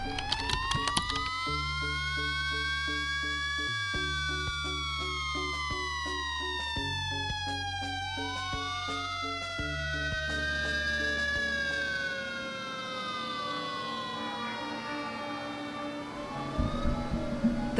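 Emergency vehicle sirens wail and sweep up and down over a steady low engine drone as fire and rescue crews respond to a suburban house fire, loud and continuous, with overlapping tones.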